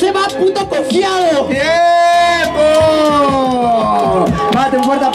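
A rap battle crowd roars with cheers, whoops and shouts, a loud dense swell of many voices that holds steady for several seconds before rising again near the end.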